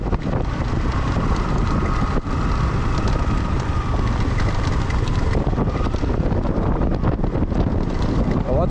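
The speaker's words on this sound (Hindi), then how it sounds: "हवा चल रहा है भाई, पड़ा पड़ी।" Strong wind buffeting the microphone on a road trip in Spiti: a continuous loud roaring rumble, steady throughout, with no clear talk above it.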